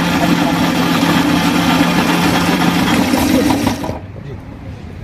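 A student-built hybrid bike running on an electric motor with a double-sensor battery gives a steady, loud mechanical drone with a sustained hum that cuts off sharply near the end, leaving quieter background.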